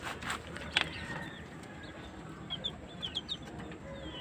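Two roosters and a hen of backyard native chickens, including a Hatch Gray cross, giving short scattered clucks and chirps at moderate distance over steady outdoor background noise, with no talking.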